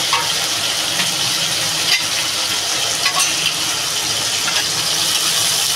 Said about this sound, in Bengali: মাছটা আমি বেশি ভাজবো না, হালকা ভাজা দেবো